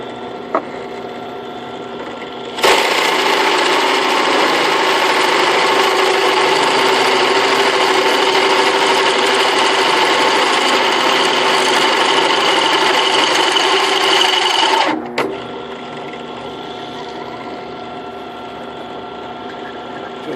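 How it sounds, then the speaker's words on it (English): A steady, loud mechanical whine of a small drill press boring into oiled metal on a Ferguson TO30 tractor part runs for about twelve seconds, starting and stopping abruptly, with quieter hum around it. "It's almost a little bit too much for my little drill press, but just keep hitting it with some oil."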